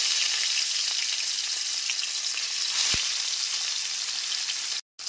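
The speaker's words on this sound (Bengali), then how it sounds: "এরপর এতে লবণ আর হলুদ গুঁড়ো মাখানো মাছের পিসগুলোকে দিয়ে দিচ্ছি" Catla fish pieces coated in salt and turmeric frying in hot oil, a loud, continuous hiss and crackle close up, with one brief soft knock partway through and a short sudden dropout near the end.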